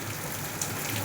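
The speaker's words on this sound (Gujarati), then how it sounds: "પાછળ જોઈ શકો છો વરસાદ" Rain falls outdoors in an even, soft patter, a quiet continuous hiss of drops on surfaces with no break.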